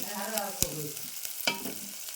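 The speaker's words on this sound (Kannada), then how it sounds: "ಈ ಉಳ್ಳಾಗಡ್ಡಿ ಮೆಣಸಿನ್ಕಾಯಿ ಎರಡು ಚಂದ ಫ್ರೈ ಆಗ್ಬೇಕು" Onions and chilies fry in a pan, a soft, steady sizzle broken by a few sharp scrapes and clicks from a stirring spoon.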